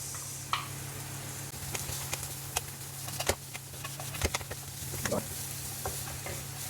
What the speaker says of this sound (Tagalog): Lagay na rin natin yung sibuyas.